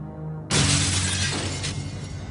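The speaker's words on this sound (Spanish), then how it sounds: "Se oía ruido de cristales rotos." Glass shatters suddenly and loudly inside a house, a sharp crash bursting out of quiet, then fragments keep tinkling and crackling for a couple of seconds.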